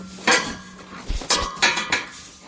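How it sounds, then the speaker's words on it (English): A metal farm water bucket is handled and set down, giving several sharp metallic clanks and clinks spread unevenly across a couple of seconds, close and fairly loud with no talking. "Fix the bucket. This is the water bucket."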